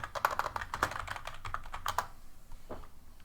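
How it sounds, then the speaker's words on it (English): Rapid clacking keystrokes on a computer keyboard, near and fairly soft, in a quick uneven run that thins out into a couple of final taps. "somehow when I'm typing, it's triggering commands"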